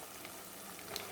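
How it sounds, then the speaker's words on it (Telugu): Onion paste frying in a pan gives a steady, close hiss of sizzling that runs unbroken throughout, with no voices. "ఉల్లిపాయ పేస్టు మాడకుండా చూసుకుంటూ వేయించుకోండి."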